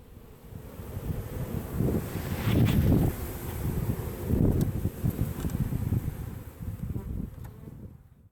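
Dense buzzing of many bees fills the air, swelling and fading in waves, with wind rumbling against the microphone.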